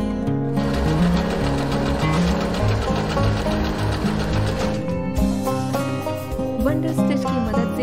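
An Usha Wonder Stitch sewing machine stitches steadily and close by, a fast, even mechanical rattle that runs continuously with a faint tonal hum beneath.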